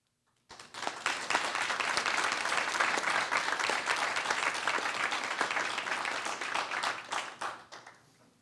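Applause from an audience after a talk on shareholder empowerment, starting abruptly, holding as a steady wash of many clapping hands, then tapering off toward the close.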